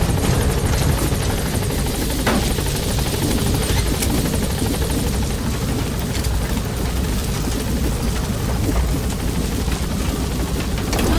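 A helicopter arriving at a landing zone in the video game Metal Gear Solid V: The Phantom Pain, its loud, steady rotor chop and turbine whine sustained throughout, with no talking.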